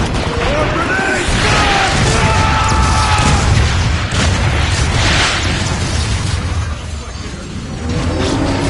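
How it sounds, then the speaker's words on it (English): Grenade explosions in a Transformers game, heavy dense booms and crashing debris in a loud, continuous barrage, with a voice talking through the blasts. "More grenades!"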